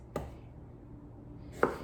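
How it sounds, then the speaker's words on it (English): Two sharp knife chops land on a cutting board about a second and a half apart as cucumbers are diced, with quiet room noise in between. "I am just gonna start cutting them up, just dicing them"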